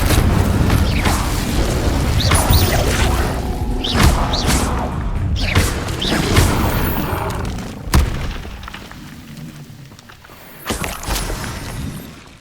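Incendio fire spells cast in the Hogwarts Legacy video game, with repeated booming bursts and crackling impacts separated by short gaps, loud and close, amid game effects.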